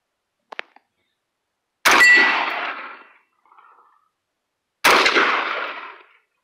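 Two loud metallic clangs ring out as bullets strike a 6 inch steel plate target at 50 yards, each strike decaying over about a second, with a faint ting between them and a small click beforehand.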